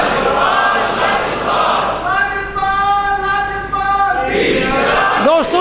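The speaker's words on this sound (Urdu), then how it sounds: "دوستو یہ نعرے صرف اس مسجد میں لگتے ہیں" A crowd inside a mosque chants slogans in loud unison, voices rising together into sustained, tonal calls after a noisy murmuring start.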